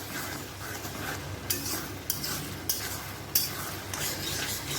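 Spicy fish jhuri stirred and crumbled in an iron wok, with a steady scraping, sizzling stir and several sharp metallic knocks of a spatula against the pan, close and alone with no talk.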